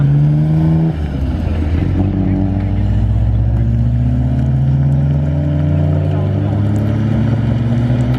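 A Toyota Supra and a Nissan R34 roll away together, their engines giving a loud, steady low rumble throughout, with voices talking over the drone.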